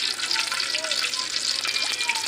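Cooking oil pouring into a large pan at a street-side fried-snack stall, a continuous bright hiss and bubbling fry, close and steady with small watery crackles.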